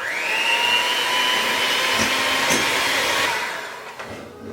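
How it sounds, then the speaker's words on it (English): Handheld electric mixer beating butter on high speed for gluten-free apple cinnamon muffins, producing a loud, steady motor whine that holds close and constant, then fades briefly near the end, with no talking. "using a handheld mixer, beat the butter on high speed until smooth and creamy"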